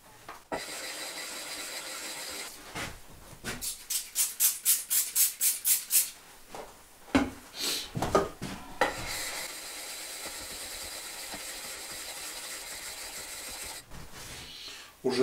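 A water stone is rubbed back and forth against another sharpening stone to flatten it, giving a close, gritty scraping in a run of regular strokes with pauses between.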